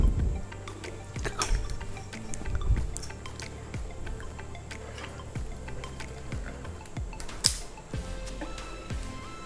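Pandan jelly batter drips into water to form chendol, a close run of soft irregular plops and small liquid splashes with a louder splash near the end.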